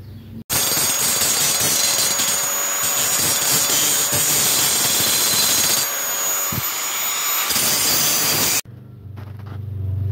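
A power tool grinds and cuts into welded motorcycle cooling fins, a loud, continuous abrasive whine that shifts in pitch as the workpiece is bevelled, breaking off abruptly near the end.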